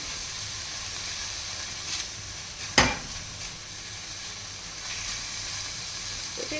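Poppy seed paste sizzling in a pan over a gas flame, a steady frying hiss, and one sharp scrape or stir partway through, with no talking.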